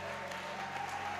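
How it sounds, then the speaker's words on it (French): Church congregation applauding, a steady wash of clapping that stays even throughout the short stretch, heard from within the room over a low background hum. "je voudrais qu'on acclame le Seigneur pour notre mère"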